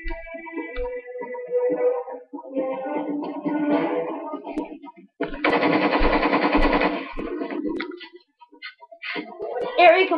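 Gatling gun fire in the video game Lost Planet 2: a dense, rapid burst of shots lasting about two seconds mid-clip, surrounded by other game sounds and voices.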